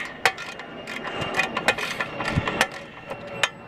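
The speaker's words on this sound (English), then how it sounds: "these particular bolts are sometimes a bear to get loose" Brake bolts being worked loose on a 2003 Dodge 2500 pickup, a close series of sharp metallic clicks and ratcheting taps at an uneven pace, with no talk over them.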